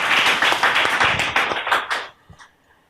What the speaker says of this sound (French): On applaudit pour elle.